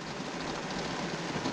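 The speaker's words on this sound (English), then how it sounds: "you want to enjoy the sounds of the rain on the metal roof" Steady rain drumming on a metal roof, heard from inside a vehicle or shelter as a dense, even patter with no pauses, fairly loud and close, with no voices.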